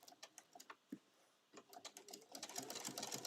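A sewing machine stitches a simple fabric bag in short, quiet bursts of rapid mechanical ticking, settling into a steadier run toward the end.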